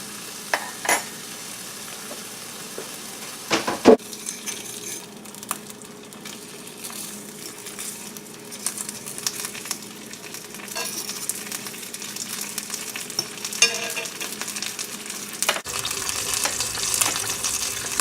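Thick-cut pork jowl bacon fries on medium-high heat in a pan, giving a soft continuous sizzle with occasional clicks and scrapes and a brief louder clatter near the start and end.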